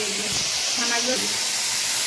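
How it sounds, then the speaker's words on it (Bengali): Potatoes fry in a pan with a dense, continuous hiss of sizzling oil, while a person talks briefly over it. "তো ছানাগুলোকে ভেজে নিয়েছি আর আলুটাকে ভাজছি"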